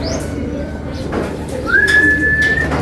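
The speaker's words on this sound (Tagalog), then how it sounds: "Ayan mga kaibon." During pigeon training, a pigeon coos briefly close by, joined by a thin sustained whistle-like tone near the end over a low background rumble.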